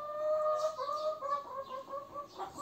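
Egg-laying hens cluck steadily and close by, a run of short overlapping calls with no talking.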